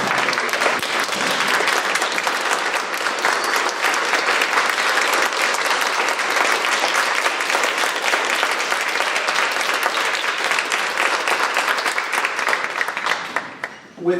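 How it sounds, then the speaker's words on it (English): Sustained, loud applause from a large audience giving a standing ovation at a national parliamentary debate tournament awards ceremony, dense steady clapping filling the room for about thirteen seconds before tapering off at the end. "So please, everyone, standing ovation for Baker."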